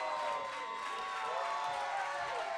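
A wrestling crowd at a Monster Factory event roars with cheering, a steady dense wash of voices that is distant and fairly quiet throughout.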